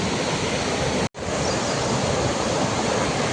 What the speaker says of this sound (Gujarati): ઝરણું જાય છે।